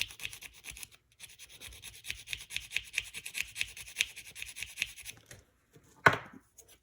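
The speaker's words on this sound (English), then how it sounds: "all I'm trying to do is just grind that to a point where I can then sand it down properly" A 1/48 scale F-117 model part is ground down by hand, giving steady rapid rasping strokes for several seconds, then a pause and a single louder scrape near the end, close up and without talk.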